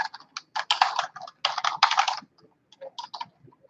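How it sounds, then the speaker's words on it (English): Fingers tap out quick bursts on a computer keyboard, clusters of crisp clicks with brief pauses between, close and clear with no talking. "I guess I can type it up."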